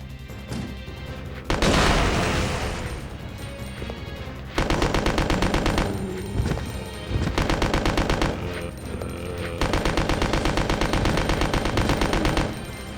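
Gunfire in Resident Evil Code: Veronica, loud sustained bursts of rapid automatic fire broken by short pauses, with booming impacts and game noise between volleys.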